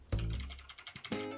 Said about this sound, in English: this is me typing